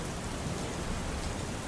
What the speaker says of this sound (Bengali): এবার মুষলধারে বৃষ্টি শুরু হলো।